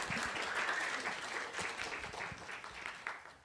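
An audience at a children and youth resilience summit gives a round of applause, a full burst of many clapping hands that starts strong and gradually thins and softens, with no speech over it.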